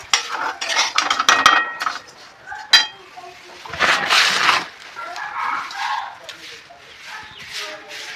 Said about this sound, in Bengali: এভাবে ভালোভাবে নাড়বো